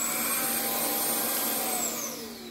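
A Vax ONEPWR Blade 4 cordless vacuum cleaner runs with a steady high whine and airy rush, close and loud, easing slightly at the end.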